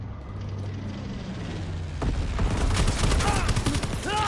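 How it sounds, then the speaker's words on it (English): Incendiary bombs explode in a video game. After two seconds of low rumble, a loud, dense burst of crackling blasts and gunfire-like bangs begins and keeps going to the end. "Incendiary bombs incoming."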